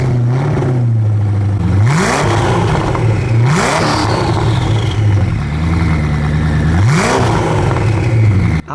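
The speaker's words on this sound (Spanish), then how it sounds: "sería un crimen hacer un vídeo con el Koenigsegg y no filmar cómo suena ese escape" A Koenigsegg Agera RS1 idles with a deep rumble, then revs sharply several times, the exhaust roaring up and dropping back, loud and close.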